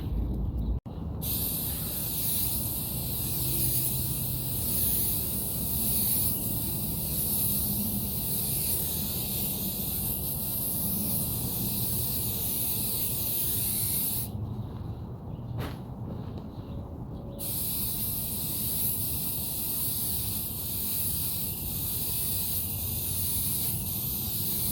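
Scotchgard protective spray hisses steadily from an aerosol can onto an outdoor egg chair, a long close continuous spray that stops briefly midway and then resumes.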